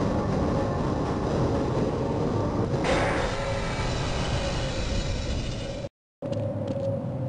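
A train in the Half-Life video game rolls steadily into a station with a continuous loud rumble and rail clatter, a brief dropout near the end, then the rumble resumes.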